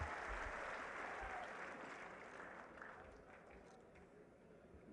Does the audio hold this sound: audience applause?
yes